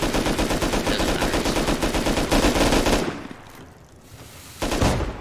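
Auto turrets in the survival game Rust fire rapid, loud bursts of automatic gunfire, a dense stream for about three seconds, then a short lull before another burst.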